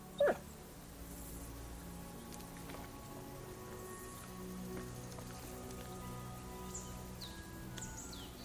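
A dog in the medieval role-playing game Kingdom Come: Deliverance 2 gives one short yip near the start, followed by quiet outdoor ambience with a faint patter like rain.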